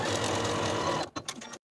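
Sewing machine stitching a 5/8 inch seam along a folded jacket sleeve, a steady close whir running about a second before stopping, followed by a few short handling clicks and rustles.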